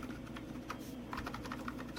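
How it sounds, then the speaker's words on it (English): Typing on a quiet computer keyboard, with soft, irregular clicks and clustered keystrokes tapping along steadily at close range in a quiet room. "It's a pretty quiet keyboard"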